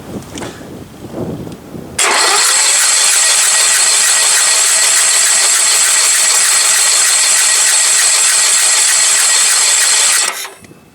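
Sears lawn tractor engine cranking briefly, then catching and running loud and steady for about eight seconds before cutting off, close up.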